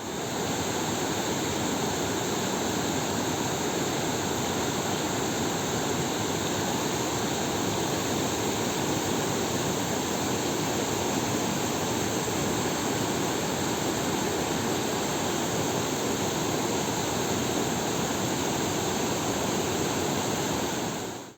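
Water rushes continuously in a stream, a dense, steady, loud wash with no breaks and no voices.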